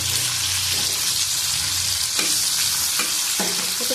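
Chopped tomato goes into a frying pan, where a constant close sizzle continues along with several soft clacks of stirring, with no talk.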